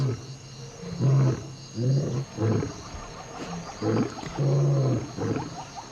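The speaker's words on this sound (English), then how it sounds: "Lions roar most at dusk and dawn because that's when sound carries best." A lion roars in a series of deep, loud grunting bursts, about seven pulses in a rhythmic sequence that starts strongly and gradually tapers, heard close and alone over faint background insects.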